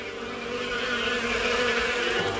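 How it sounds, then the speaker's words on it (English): Bees buzz in a steady, continuous drone that stays fairly loud and unbroken throughout, with no voices over it. "Buzzing bees!"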